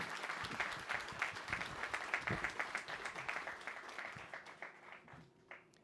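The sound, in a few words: applause at court investiture ceremony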